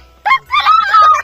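A short burst of loud, nasal squawking clucks, close by, with a brief call followed by a longer wavering run.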